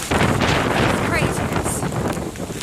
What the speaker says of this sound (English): it's just really windy out here